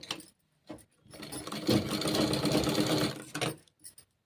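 Sewing machine stitching the seam of a pleated blouse sleeve, a steady close whirring run of about two seconds framed by brief starts and stops, with no talking.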